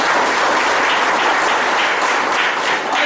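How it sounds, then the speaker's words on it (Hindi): Loud, sustained applause from a seminar audience, dense clapping filling the room without pause and no talking over it. "उनके सम्मान में एक जबरदस्त ताली चाहूंगा।"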